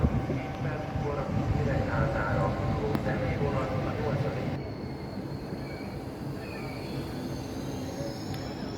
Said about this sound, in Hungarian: Ezzel a vonattal fogok átutazni Miskolcról Füzesabonyba.